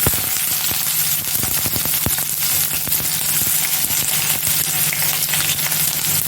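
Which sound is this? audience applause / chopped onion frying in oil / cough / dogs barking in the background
chopped onion frying in oil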